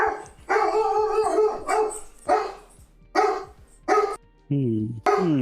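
A dog barks several times in sharp, loud bursts, with one drawn-out yelping howl near the end, the barks standing out clearly above a quieter background.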